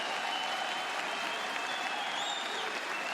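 Dense, steady crowd noise from an esports arena audience at IEM Katowice 2019 during an Astralis vs. NiP Counter-Strike quarterfinal, a continuous loud roar of cheering and applause with no break.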